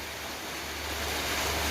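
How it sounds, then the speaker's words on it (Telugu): Heavy rain falls steadily outdoors, a dense, even hiss that grows a little louder, with no talk. "చూసినారు కదా ఎట్ట పడుతుంది వాన."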